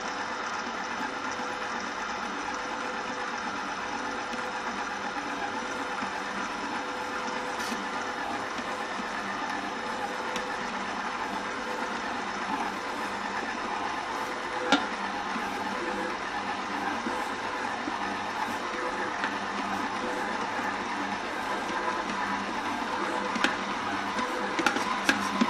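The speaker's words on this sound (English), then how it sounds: "Mix this until it forms a dough." Stand mixer steadily kneading dough for Guyanese butter flap, a continuous even mechanical whir with faint ticking and no talk.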